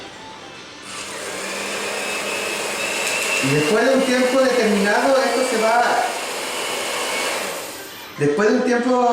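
A blender motor whirs continuously mixing yogurt while a person speaks over it, and the pitch shifts slightly near the end.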